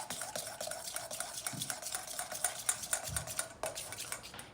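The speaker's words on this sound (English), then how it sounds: "Next, we are going to add half a teaspoon of baking soda, and we're going to mix that together." A spoon stirring baking soda into a homemade slime mixture, giving a steady quiet run of scraping and soft clinking strokes against a container, close but low in level, with no voices.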